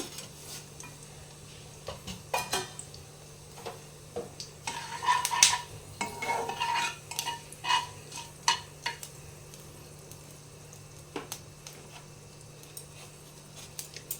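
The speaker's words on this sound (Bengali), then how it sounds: "আমি তেলটা দিয়ে দিলাম এখানে আমি পাঁচ ফোড়ন দিচ্ছি" Panch phoron spices crackling in hot oil in a pan for a small-fish curry, light sizzle with scattered sharp pops and clinks of a spoon against the pan, busiest in the middle, no one talking.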